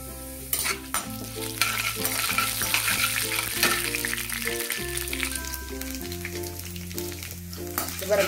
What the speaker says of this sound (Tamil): முதல்ல எண்ணெய் காஞ்சிச்சு, கடுகு போட்டிருக்கேன்